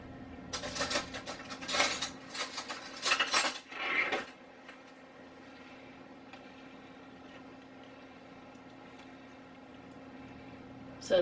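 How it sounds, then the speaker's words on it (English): A spoon is grabbed from a kitchen drawer, a loud burst of cutlery clattering and metal clinking for a few seconds, then fading into a quiet hum of kitchen background. "I'm gonna grab another spoon or something."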